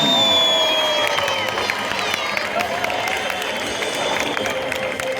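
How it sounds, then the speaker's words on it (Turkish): A crowd applauds and cheers steadily, with continuous clapping and some whistles throughout. "Alkış lütfen."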